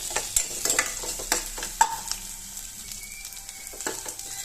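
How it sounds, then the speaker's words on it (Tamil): Curry leaves and onions sautéing in a pan while black kavuni rice kozhukattai is made, giving a steady close sizzle with sharp stirring clatters and scrapes scattered through, alone without talk. "கருவேப்பிலையும் இந்த மாதிரி கிள்ளிட்டு சேர்த்துக்கோங்க வாசனை நல்லா இருக்கும் இது கொஞ்சம் வதங்கட்டும்"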